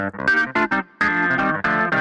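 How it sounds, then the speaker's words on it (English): Bright, percussive clavinet notes played in short funky stabs and chords, with a sharp biting attack and brief gaps between phrases. "we're going to be doing this on a clav sound"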